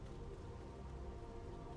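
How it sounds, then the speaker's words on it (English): Soft, continuous rainfall hisses evenly throughout a stretch of the video game Final Fantasy XIV: Dawntrail, a low, dense patter with no voices over it. "And it's raining."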